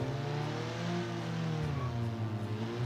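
Engine of a 1970s Citroen with a thin, tinny exhaust in BeamNG, held at a steady buzzing drone and then revving upward with rising pitch in the second half, loud and close, no voices.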